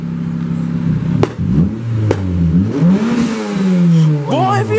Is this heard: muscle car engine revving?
yes